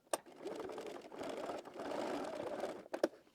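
A sewing machine runs in short bursts while stitching a wrap dress skirt onto the bodice beside an existing seam, with close, moderately loud whirring broken by a brief pause and a couple of clicks near the end.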